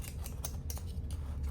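A knife slicing a fish fillet in two for a Cajun fish burger, giving a close, steady run of short crisp cutting strokes over a low background hum, with no talking.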